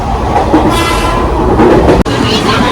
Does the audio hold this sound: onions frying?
no